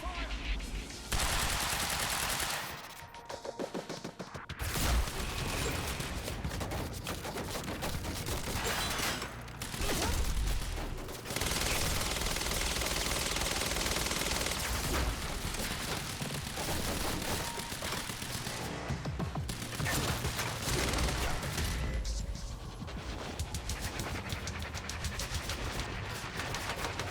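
Sustained automatic gunfire in the shooter game Quantum Break, a loud, dense barrage of rapid shots running almost the whole time with brief lulls, while voices shout over the firefight.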